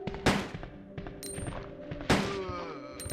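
A few loud gunshots fired in the video game Resident Evil 2, with two sharp reports standing out among softer, quicker shots and game sounds over about three seconds.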